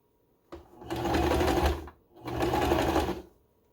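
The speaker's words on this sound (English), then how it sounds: "Then we're going to sew the edges together, making sure to keep the loop out of the way." A sewing machine stitches the edges of T-shirt fabric together in two steady bursts of whirring, separated by a short pause, close and clear with no talk.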